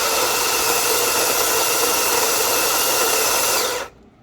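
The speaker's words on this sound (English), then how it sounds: "And we have our OXO coffee burr grinder." An OXO burr grinder grinds coffee beans with a steady, loud whir that holds evenly for nearly four seconds, then cuts off abruptly into quiet.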